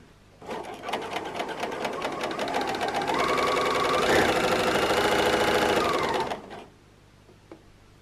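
A new Bernina L460 overlocker runs at speed for about six seconds, a dense rapid mechanical chatter with a rising hum, then stops abruptly and leaves quiet.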